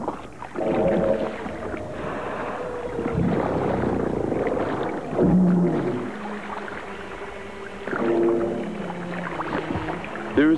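Whale vocalizations from the ocean, long moaning and whistling calls with rising and falling tones, repeated several times over a low watery rumble, clear and fairly loud.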